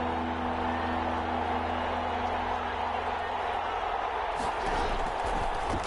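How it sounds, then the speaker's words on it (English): Football stadium crowd in a PS4 game, a steady broad murmur of many voices that swells slightly near the end, running under play-by-play commentary. "Crowd getting in it a bit already"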